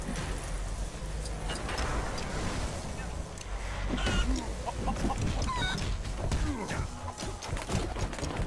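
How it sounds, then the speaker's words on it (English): A chicken clucks in short, scattered bursts inside the LEGO Marvel Superheroes 2 game world, mixed into a busy bed of game sounds and music, with people talking over it. "Is that a chicken?"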